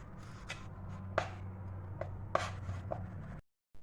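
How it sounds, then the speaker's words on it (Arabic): Knife chopping garlic on a cutting board in a home kitchen, a few irregular close taps and sharper knocks over a steady low hum, with no talking. "وهلا بدنا نفرم التومة"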